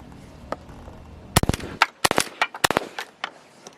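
Repeated sharp shotgun blasts from a brand-new Weatherby Element shotgun firing light loads, several loud close reports in quick irregular succession with one fainter shot before them.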